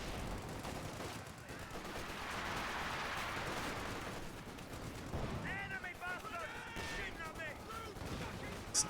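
Sniper rifle shots in a strategy war game, sounding amid a busy battlefield din of gunfire and rumbling, with a commentator talking over the action throughout.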